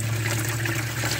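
Water trickles from the oil drain of a 1953 Ferguson tractor into a pan, a brief liquid dribble with a steady low hum beneath it and no speech.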